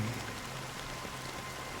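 Steady rain in the video game Honkai Star Rail falls as an even, hissing wash of drops that stays constant and fairly faint throughout, with no voices.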